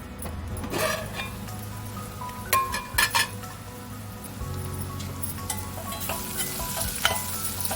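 Bitter teasel gourd slices fry in plenty of oil in a covered pan, giving a steady close sizzle with a few metallic clinks of utensils against the pan partway through.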